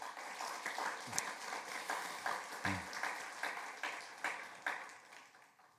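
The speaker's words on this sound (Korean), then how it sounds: "먼저 환영의 박수 한번 하겠습니다." Welcoming applause for visiting church pastors and elders at a university chapel service, quiet and somewhat distant, made of scattered individual claps that swell briefly and trail off.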